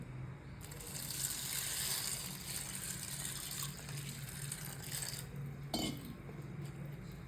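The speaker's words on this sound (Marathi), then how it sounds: "तर मी याच्यात पाणी टाकणार आहे." Water pours steadily into a bowl of sabudana (sago pearls) with a continuous gushing rush, close and fairly quiet, ending with a brief clink near the end.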